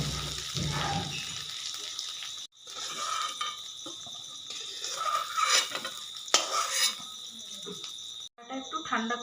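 Fried potatoes are lifted out of a pan with a utensil, producing repeated metallic scrapes and clinks over a steady background hiss, with a brief pause partway through.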